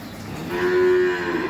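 A Holstein Friesian heifer calf gives one drawn-out moo, close and loud, swelling in the middle and then easing off, with no other voices.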